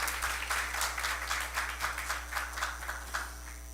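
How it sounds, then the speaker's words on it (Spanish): An audience at a judicial reform conference gives a welcoming round of applause for the speaker Santiago, a moderate, even patter of many hands clapping with regular bursts throughout. "le damos un fuerte aplauso de bienvenida a Santiago"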